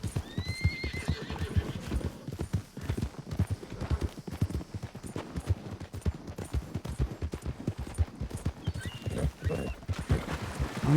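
A horse in the Red Dead Redemption 2 video game neighs at the start while its hooves clip-clop in a rapid, continuous rhythm over ground, with another whinny near the end.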